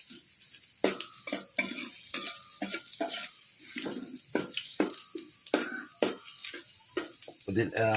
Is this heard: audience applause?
no